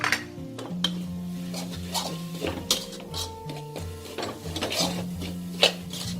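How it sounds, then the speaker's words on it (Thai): Minced pork being stir-fried in a pan for a Thai roasted chili paste, with steady utensil scraping and clinking against the pan and a low sizzle running throughout, no voices. "แล้วเราก็ผัดเลยค่ะ"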